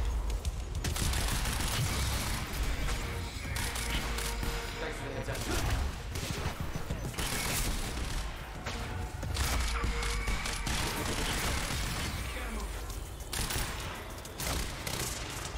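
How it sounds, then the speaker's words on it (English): Rapid, sustained gunfire from a shootout against an enemy in the video game Quantum Break, dense volleys of shots and thuds filling the whole stretch, loud and continuous with a voice partly underneath. "I gotta shoot him in his fusion core!"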